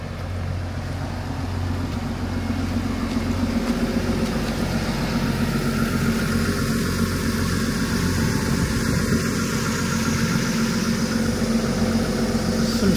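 A loader's diesel engine idles outdoors in snowy weather, a steady low rumble with a constant hum that holds at an even level throughout, with no talk over it.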